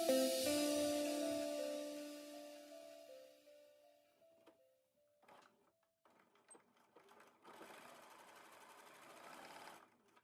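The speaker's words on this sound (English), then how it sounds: "we're gonna sew across that line" Sewing machine stitching across quilt block pieces, a steady mechanical whir that fades out, followed by faint handling clicks and a soft rustle of fabric, with no talking.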